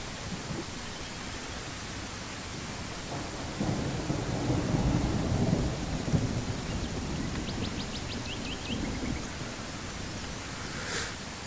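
A thunderstorm in the video game Land of the Vikings: steady rain hiss under rolling thunder that swells in the middle, with a few faint metallic ticks near the end.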